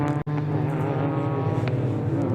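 Several BMW Mini race cars at Donington Park circuit in a 40-minute Mini Challenge Clubsport endurance race, a steady loud engine drone with layered harmonic tones held continuously, one brief dropout near the start.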